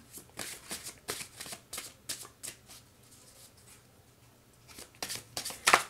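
Tarot cards are shuffled by hand in a steady run of close, crisp riffling bursts, with soft pauses between bursts and no talking.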